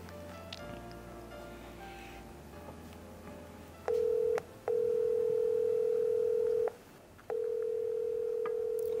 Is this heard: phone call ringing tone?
yes